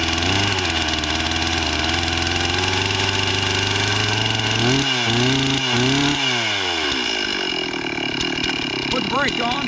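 A chainsaw, primed with a shot of ether and with its compression release on, starts and runs loud and close, its engine note stuttering and dipping a few times before settling into a steady rough idle during storm cleanup.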